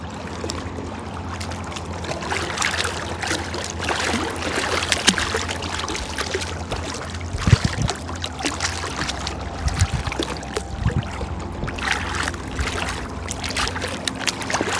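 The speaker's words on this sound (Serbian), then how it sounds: "Evo malo ću vam snimit more." Sea water gently lapping at a beach shore, a soft continuous wash with small splashes and ripples, fairly close and steady throughout with faint background activity and no talking.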